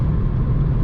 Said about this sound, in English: we're cruising at highway speeds, so it does get a little loud in here on the highway